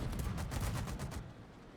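Ship guns firing in a naval battle video game, a loud rolling salvo of rapid booming shots that stops abruptly after about a second and leaves a quiet tail, with no talking.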